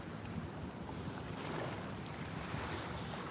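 Steady broadband rush of flooded Chattahoochee River water at Columbus, Georgia, with constant wind noise on the microphone and no talk.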